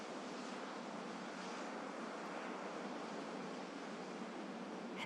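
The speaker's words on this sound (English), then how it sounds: "The way a wave builds and builds and then simply finishes itself on the rocks." Ocean waves breaking on rocks: a steady, faint broadband wash of surf with no distinct crashes, continuous and distant, with no voices.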